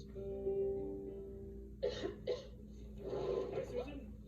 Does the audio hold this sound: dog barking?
no